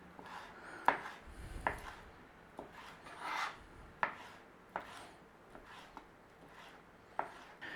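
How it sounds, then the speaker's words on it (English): A knife cubes bratwurst sausages on a chopping board, giving a series of quiet, sharp taps at irregular intervals with soft rubbing between cuts, faint and close. "Now I'm going to cube these up small, but you can go for slice if you so wish."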